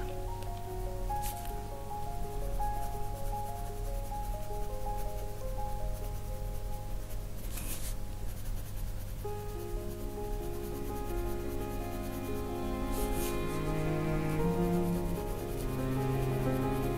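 Colored pencils in sepia and Payne's gray layer onto an adult colouring book page, a soft, steady scratchy rubbing close by that continues without voices.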